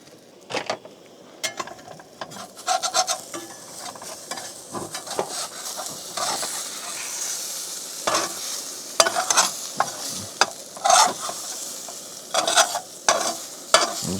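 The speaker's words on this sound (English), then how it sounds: "I'm just gonna mash this up." Food being mashed and stirred in a pan on a camp stove while truck camping in the Utah desert, giving irregular scraping and clacking strokes over a faint sizzle, close by and with no talking.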